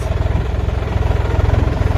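A Başak 2060 tractor with a trailer runs close by, its diesel engine chugging in a fast, steady pulse that stays loud throughout, with no voices.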